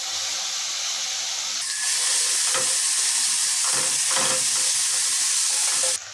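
Crushed ginger, garlic and chili frying in a hot pan for an Assamese fish and taro dish, a loud steady sizzling hiss that swells slightly and runs alone throughout.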